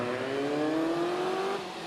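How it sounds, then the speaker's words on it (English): Supercharged Bugatti Type 51 straight-eight roller-bearing engine at Prescott hill climb, a steady loud engine drone with one rising tone holding through most of the clip, then easing off near the end. "look at this lovely straight 8 roller bearing engine, classic Type 51 supercharged Bugatti"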